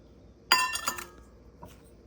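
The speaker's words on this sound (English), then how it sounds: "Okay, so I'm going to mix these together in the bowl." A spoon mixing graham cracker crumbs and sugar in a bowl gives two sharp, close clinks in quick succession, then a fainter knock after a short pause.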